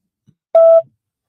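A single short electronic tone sounds for about a quarter second in otherwise near silence, like a phone dialing beep.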